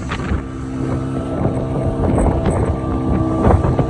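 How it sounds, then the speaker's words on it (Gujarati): A motorboat runs fast over rough sea off a Goa beach, its engine giving a steady, loud, close drone that swells slightly, with wind noise throughout. "બોટ ચાલે છે જોરદાર,"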